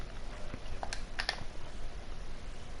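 Quick, light clicks of typing on a computer keyboard come in a few brief clusters, close but faint, with no talking.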